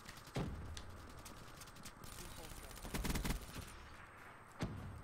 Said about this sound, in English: Who's shooting those silenced weapons?